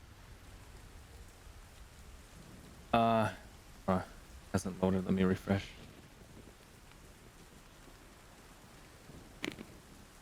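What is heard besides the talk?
storm with rain and thunder ambience from game map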